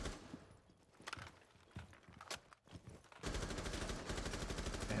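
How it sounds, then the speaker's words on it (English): Gunfire in the video game Rainbow Six: scattered single shots early on, then a sustained rapid automatic burst that runs loud and continuous to the end. "we hear the gunshots"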